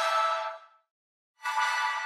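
Sustained bright sample shaped by ShaperBox filter mode for a future riddim beat: two smooth tonal swells that fade out, pause and return, alone and fairly quiet.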